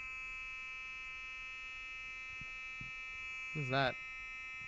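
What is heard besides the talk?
fire alarm going off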